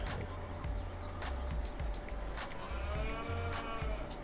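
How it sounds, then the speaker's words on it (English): Cattle moo repeatedly in the Farming Simulator 19 video game, long low bellows rising and falling over a steady farm ambience, with faint bird calls in the background. "Oh, yeah, those cows."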